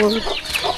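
A chicken clucks close by in a rural Lao farmyard, a short burst of a few quick, loud clucks.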